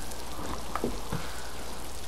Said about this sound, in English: Good thing it's still raining.